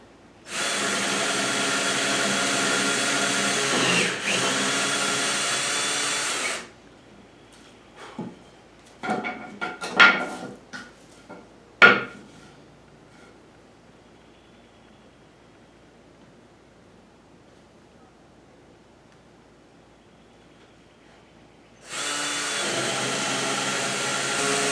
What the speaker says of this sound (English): Got a 1-inch Forstner bit in my drill, and now it's just a matter